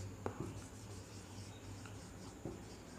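A teacher writes on a board during a steel structures lecture. A few faint, scattered scratching strokes sit over a steady low hum, with no talking.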